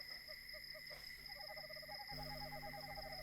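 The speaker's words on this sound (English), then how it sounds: "Those are owls, right?" Owls hoot softly outdoors on a cold night, short hollow calls repeated in a quick series over faint steady crickets and low background hum.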